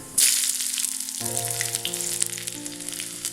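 Chopped shallot hits hot coconut oil with mustard seeds, a sudden loud sizzle that settles into steady frying crackle under background music.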